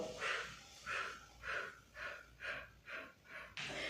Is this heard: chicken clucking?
no